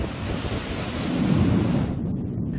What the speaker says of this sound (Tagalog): lumakas ang hangin at lumaki ang mga alon sa Municipal Fish Landing